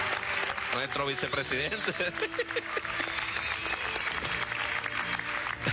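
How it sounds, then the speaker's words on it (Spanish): Clapping and cheering at a political primary results event fill the background while someone speaks over the crowd with a loud, continuous voice. "aplaudan a Darío, viva."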